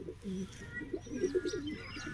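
Soft, low pigeon cooing murmurs repeatedly at close range, with a few faint higher chirps and light background noise.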